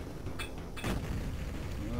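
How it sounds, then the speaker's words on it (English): A big explosion booms in the video game Duke Nukem 3D, a sudden blast after a brief earlier crack, standing out loudly against the quieter game background. "That was a big explosion."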